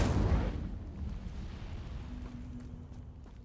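Incendio fire spell cast in the Hogwarts Legacy video game, heard as a loud blast that bursts at once and then fades into a lingering low rumble.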